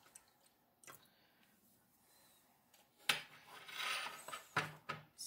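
A quarter cup of water pours into 16 ounces of tomato sauce in a kitchen, a short splashy gush with a few drips and clinks, preceded by faint scattered handling sounds.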